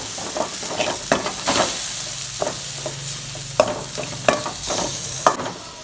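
Onions and tomatoes sizzle and fry steadily in a pan for an anchovy dry fish thokku, with repeated scraping and stirring clicks from a utensil throughout.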